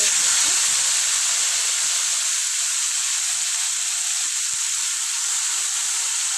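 Gongura leaves and green chillies sizzle in hot oil in a pan, a steady, loud, bright hiss that holds evenly throughout with no talking over it.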